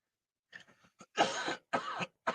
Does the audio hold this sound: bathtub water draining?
no